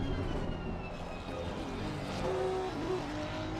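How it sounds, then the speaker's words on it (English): A Honda NSX engine revs in a racing sim video game at a Belgian circuit, a steady droning engine note with rising whine and a brief pitch jump, moderately loud with no talking. "You heard the revs of the NSX dart up."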